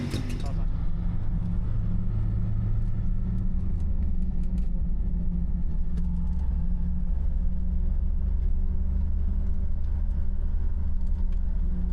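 A car drives on a country road near Sürgavere in Estonia, its low engine rumble steady and close for the whole stretch, with no talking.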